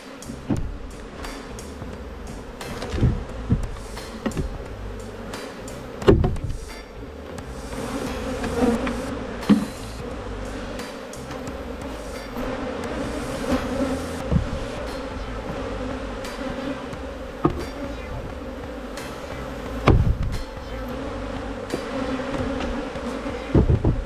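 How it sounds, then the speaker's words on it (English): A honey bee swarm being worked by a beekeeper, a dense continuous buzz hanging steady throughout with scattered knocks and bumps of the hive box nearby. "knock all the bees into the box here"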